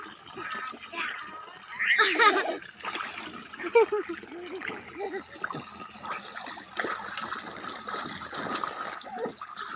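Children splashing in the water of a garden pond, with bursts of splashing and trickling close by, mixed with lively voices, shouts and laughter.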